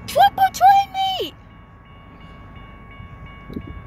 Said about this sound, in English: Well, the freight train's picking up speed.